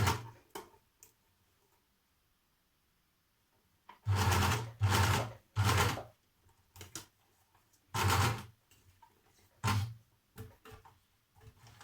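A sewing machine stitches through a thick, bulky section of dress fabric in several short loud bursts of rapid mechanical clatter, separated by pauses. There is no talk.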